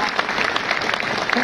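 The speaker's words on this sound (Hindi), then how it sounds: "जोरदार तालियां मेरे बड़े भाई सुरेंद्र वंश जी के लिए" A training-seminar audience claps in a thick, continuous burst of applause, brief and fairly loud, with no pauses or standout claps.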